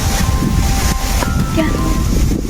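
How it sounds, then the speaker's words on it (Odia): Strong wind blowing hard outside during a storm, a steady loud roar and buffeting across the whole clip, with some rustling and faint distant sounds mixed in. "କେତେ ଜୋରସେ ପବନ କିନ୍ତୁ ବହୁତ ଜୋରସେ ଆସିଲାଣି ପବନ"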